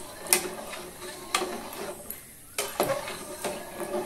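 A spoon stirring turmeric in a pressure cooker, with intermittent metallic scrapes and clinks against the pot, fairly quiet and close, with short gaps between strokes.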